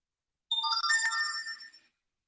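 A phone ringtone plays once, a clear bright electronic melody of about one and a half seconds, close and alone in silence.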